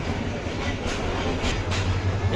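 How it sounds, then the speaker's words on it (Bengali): A very long, crowded train, with passengers riding on the roof, rolls into Sreepur railway station in Bangladesh, making a steady close rumble with faint rhythmic wheel clatter and brief rising squeals. "বিশাল লম্বা এই ট্রেনটি।"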